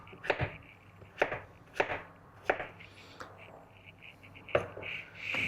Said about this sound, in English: Then I just cut this to mix into the salad.